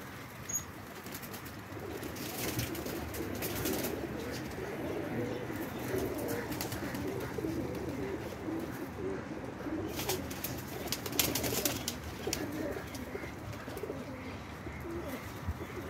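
Rare blue pigeons coo softly at close range in a loft, a low steady murmur of calls with occasional wing flutters and no one speaking.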